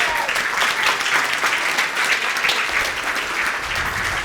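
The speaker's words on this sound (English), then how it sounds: "Give a massive round of applause, there we go, to none other than Paul Simon." Audience at a startup networking event in Cape Town giving a standing round of applause for a guest, dense continuous clapping throughout, loud and even with no break.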